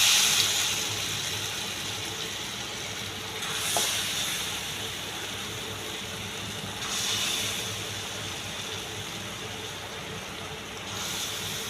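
Malpua batter made with ripe mango frying in hot oil, a steady broadband sizzle and hiss that swells briefly a few times as more batter goes in.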